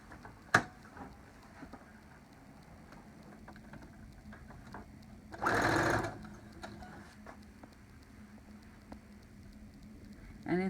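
A home sewing machine runs one short burst of stitching, under a second long, on a lined cloth face mask, sewing a straight seam. It is fairly close and stands alone among faint ticks and handling noises.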